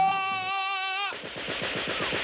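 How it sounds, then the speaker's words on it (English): Cartoon Gatling gun firing in a rapid, steady burst of loud, close shots, following a brief high musical tone. "I'll man the Gatling gun."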